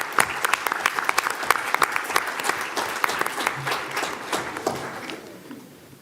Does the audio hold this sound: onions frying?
no